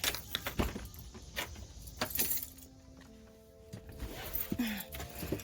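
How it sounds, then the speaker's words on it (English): Keys to a Mercedes car jangle and clink in several quick, bright bursts at close range, with quieter rustling between the shakes. "These are the keys, so this is how it turns on."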